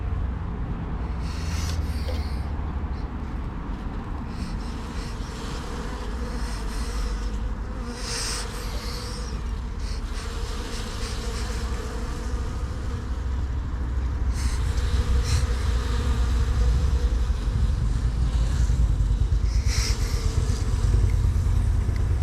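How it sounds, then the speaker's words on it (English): A steady, dense buzzing of many honey bees around a hive fills the air continuously, close and fairly loud, with occasional louder passes as individual bees fly near the head. "a lot more activity with the prime bees coming back in, and a few more guard bees around my head"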